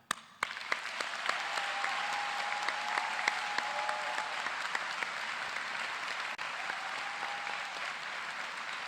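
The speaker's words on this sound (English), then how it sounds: "please join me in giving a round of applause to the real stars of the evening, our parents and family" Audience applause for parents and families at a school graduation ceremony, a continuous, even roar of many hands clapping, fairly distant and unbroken.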